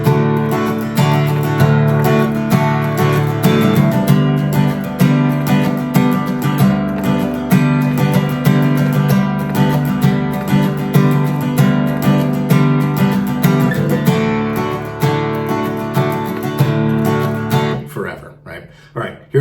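Acoustic guitar playing the chord shapes of a song, a loud, close, continuous strummed passage with steady rhythmic strokes and shifting chords, fading near the end with no talk.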